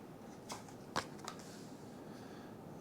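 Cards are shuffled on a table during a solo game of the Apiary board game, with several soft riffling bursts over a quiet room background.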